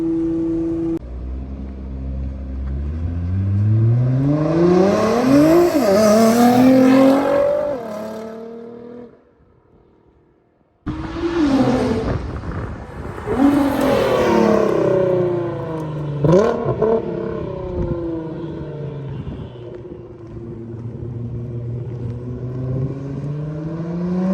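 A Nissan GT-R sports car revs and accelerates hard, its exhaust roaring and rising in pitch, then a brief lull before it roars past again and fades to a steady drone.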